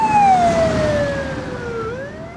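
Ambulance siren in a film scene, a loud wailing tone sliding steadily downward as the vehicle passes, with road noise underneath and no talking.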